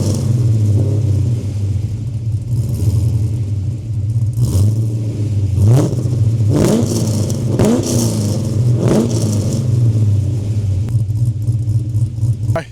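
A cammed LS V8 in a Holden VS Statesman SS idles with a heavy lumpy rumble, then is blipped through a series of sharp revs that rise and fall back, loud and close.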